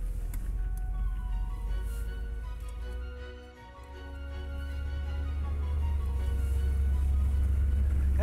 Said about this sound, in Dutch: doordat het zo'n brute motor heeft, loopt hij zo soepeltjes